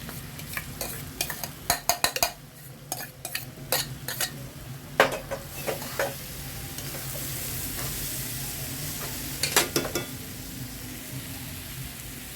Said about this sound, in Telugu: క్యాబేజ్ ఫ్రై అయిపోయిందండి ఇప్పుడు పెసరపప్పు కూడా వేసేస్తున్నాను